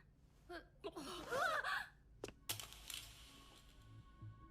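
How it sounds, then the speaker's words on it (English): Several people gasp in a scene from the medical TV drama Dr Ameku, sharp breathy intakes followed by clicks and soft thuds at low level. "What are they all gasping at? I want to gasp too."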